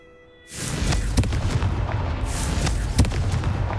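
A fiery Confringo spell detonates in the video game Hogwarts Legacy, bursting in after a brief quiet into a loud, rumbling explosion with crackling debris and a couple of sharper blasts rolling on for several seconds.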